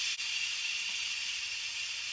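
Steam vents steadily from an Instant Pot electric pressure cooker after cooking taco meat, a continuous loud close hiss that holds without a break.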